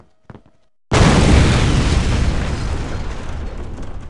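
A bomb goes off in the N64 game 007: The World Is Not Enough, a sudden loud, close blast after a short quiet lead-in, followed by a long, heavy rumbling roar that fades only slightly.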